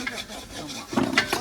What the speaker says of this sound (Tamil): எப்படி கிண்டுறதுன்னு சொல்லி கொடுக்குறாரு